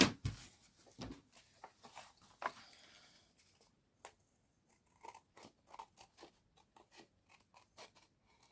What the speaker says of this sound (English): so just going to trim that off